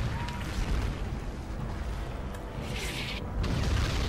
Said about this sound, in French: Il y a des explosions qui sont aléatoires partout.